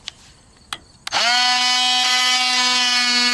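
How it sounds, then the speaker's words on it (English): A Hart oscillating multi-tool fitted with a 52mm scraping blade starts up after a couple of light clicks and taps, then runs at a steady, loud, high-pitched buzzing whine with no talking. "this is a Hart multi-tool"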